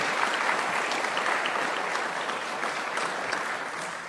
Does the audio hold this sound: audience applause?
yes